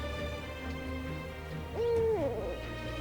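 An owl in frozen Arctic wilderness gives a single clear hoot with a short falling tail, at moderate distance over a soft, steady ambient background.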